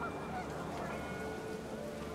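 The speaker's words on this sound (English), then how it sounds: "panicked geese appeared and quickly went" Panicked geese honk in the video game What Remains of Edith Finch, a few brief calls rising over steady wind and rain noise that fills the scene.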